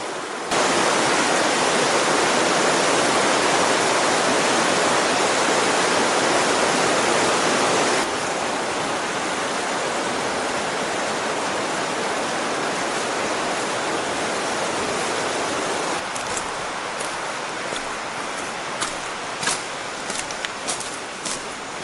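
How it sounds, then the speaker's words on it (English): Rushing water of the Travers River in Nelson Lakes National Park, a steady, loud broadband roar of fast-flowing river water that holds unbroken throughout, slightly softer toward the end, with no voices. "First sighting of the Travers River"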